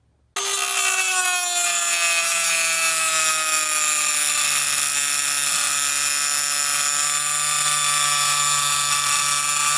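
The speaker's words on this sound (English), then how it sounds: "I'm going to use my grinder and I'm going to cut right here along this line so I can shorten that bracket" An angle grinder cutting through a metal bracket for an oil catch can, starting abruptly and holding a loud steady high whine with a gradually dropping pitch for nearly ten seconds, close up and with no talk.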